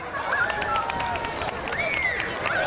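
Audience applause at a Ukrainian festival concert, a dense steady patter of clapping from a crowd with some whistles and shouts rising over it, continuous throughout.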